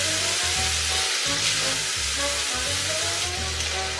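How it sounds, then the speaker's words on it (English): Tomato puree sizzles in a pot of bolognese sauce, a steady moderately loud frying hiss running throughout alongside a low tonal hum. "we're about to put 2-3 tablespoons of tomato puree into our pot here"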